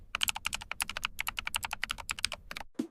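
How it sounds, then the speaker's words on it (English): Fingers tap rapidly on a computer keyboard, a close, crisp stream of clicking keystrokes ending in a brief pause and one final thud. "This is the keyboard. We use it to type letters and numbers."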